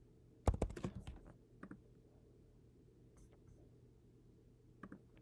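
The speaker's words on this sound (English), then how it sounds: "So I'm going to click on John, and now I'm going to log into my John account." Computer mouse clicks and keyboard typing while logging into a Google account on a desk computer: a quick cluster of sharp clicks and key taps early, then a few sparse isolated clicks, faint and close.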